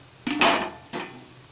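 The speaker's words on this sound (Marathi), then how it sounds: "आता मी प्लेट काढून बघते" A metal plate is lifted off a cooking pan while making Malvani-style steamed ghavane, giving two close clattering clinks of metal on metal, a bright rattle followed by a shorter knock a moment later.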